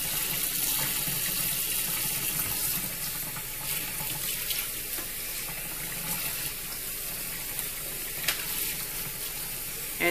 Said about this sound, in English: I'm going to go ahead and wash the silicone mix out